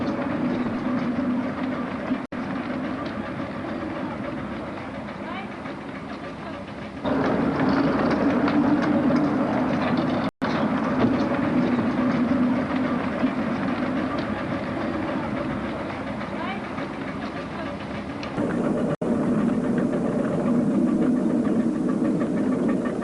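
Hunslet steam locomotive running on the Wibsey miniature railway in 1991, a steady close rumble with rhythmic wheel clatter on the track that grows louder partway through, with no talking.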